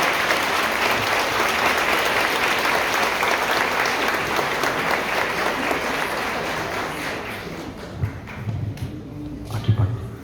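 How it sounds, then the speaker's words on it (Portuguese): Applause from a church congregation, dense and sustained clapping that thins out toward the end, with a few voices and knocks coming through as it fades. "Para Jesus e Maria, uma salva de palmas."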